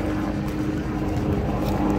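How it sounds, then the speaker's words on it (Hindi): A helicopter passes overhead near Faisal Mosque in Islamabad, a loud, steady rotor and engine rumble filling the short stretch without voices. "वो दोस्तों वो जा रहा है हेलीकॉप्टर"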